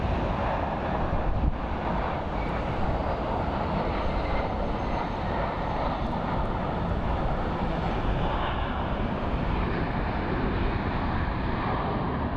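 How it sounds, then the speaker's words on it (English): A United Boeing 737 airliner on approach to Phoenix Sky Harbor International Airport gives off a continuous broad jet roar. The roar stays steady and moderately loud in the distance throughout, with no voices. "right now we have a little United 737 coming in"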